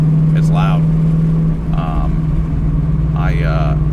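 A Ford Mustang Dark Horse with a Corsa Xtreme exhaust rumbles at a loud, steady idle, deep and droning throughout, while someone talks over it.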